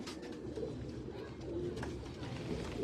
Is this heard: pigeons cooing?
yes